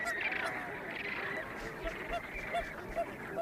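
A flock of flamingos on a hot Atacama salt pan keeps up a busy chorus of nasal, goose-like honks, overlapping and moderately distant against a steady background hiss.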